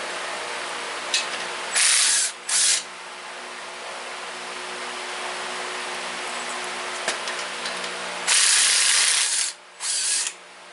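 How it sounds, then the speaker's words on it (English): Six nuts being removed from a VW engine case with a ratchet and power tool, with several short loud bursts of mechanical whirring near the start and end over a steady workshop hum. "6 nuts. I'm taking them off."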